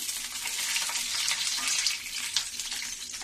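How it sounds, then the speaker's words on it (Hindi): Whole spices, including black cardamom and a piece of cinnamon, fry in hot oil in a kadhai, giving a steady hissing crackle that stays fairly soft and even throughout. "तेल गरम हो गई है, फोरन मैं डाल दी हूँ"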